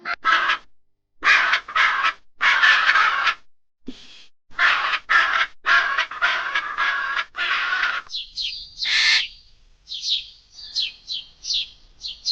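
Blue-and-yellow macaw in the Amazon forest giving a run of loud, harsh calls in irregular bursts, close and clear, followed by shorter, higher squawks toward the end.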